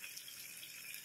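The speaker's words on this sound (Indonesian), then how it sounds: "Masukkan sedikit air." Water poured steadily into a cooking pot while making chicken biryani, a continuous hissing splash that stays level and close for the whole moment, with no talk over it.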